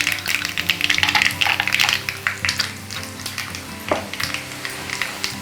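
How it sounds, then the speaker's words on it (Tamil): Mustard seeds, urad dal and chana dal fry in hot oil for coriander rice, crackling and sizzling continuously with sharp pops and spits throughout, close up and without talk. "இந்த கடுகு வெடிக்க ஆரம்பித்ததுக்கப்புறம் உளுத்தம்பருப்பு, கடலைப்பருப்பு சேர்க்கணும்."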